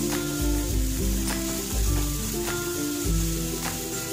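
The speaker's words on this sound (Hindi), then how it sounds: "इसे भी सॉटे कर लेंगे।" Mixed vegetables sautéed in a hot pan for hot and sour soup, a steady loud sizzle with scraping stir strokes and a low hum running throughout, no voices.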